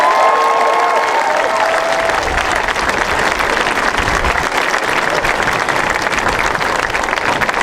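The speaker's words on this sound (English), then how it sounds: "Let's give them one more round of applause." Sustained applause and cheering from a large crowd at a Minnesota legislative celebration, loud and steady throughout with no letup.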